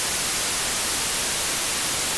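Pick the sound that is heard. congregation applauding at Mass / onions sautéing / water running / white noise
white noise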